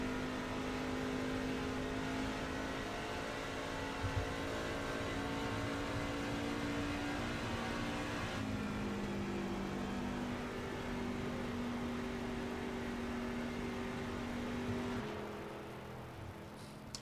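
A race truck engine at Homestead Miami Speedway holds a high steady whine near 7,300 RPM, with pitch shifting as it heads into a corner and fading near the end.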